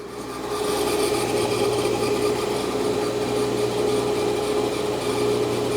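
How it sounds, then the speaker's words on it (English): A grinding machine running a plunge grind cycle drones steadily for several seconds, a continuous loud hum with a raspy, grinding edge and a fixed tonal whine, close and unbroken, with no talking. "So I will just go ahead and run the plunge one more time for you."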